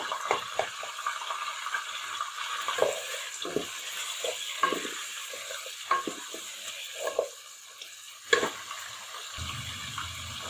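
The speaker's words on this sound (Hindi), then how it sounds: "इस टाइम पर आकर इसके अंदर हम ये लहसुन अदरक का पेस्ट शामिल करेंगे और इसको इतनी देर तक हम भून लेंगे" Garlic-ginger paste fries with chicken in a pot, giving a soft, continuous sizzle broken by repeated stirring scrapes and spoon clinks, close and fairly quiet, with no talk.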